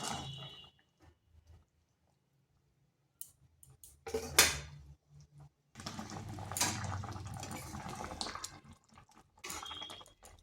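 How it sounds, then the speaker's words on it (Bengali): Egg dumplings (dhoka) simmering in curry gravy: soft bubbling and sizzling with scattered clicks and drips, quiet at first, then a louder burst around the middle and steady close bubbling toward the end. "এগুলো দিয়ে আবার 5 মিনিট ফুটিয়ে নেব।"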